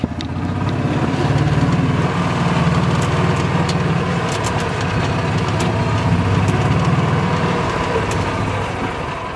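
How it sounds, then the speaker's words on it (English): EZ Go Express S4 gas golf cart with its engine running, a steady loud rumbling drone that holds throughout, close up and without pauses or talk. "give it the gas, she starts up and goes"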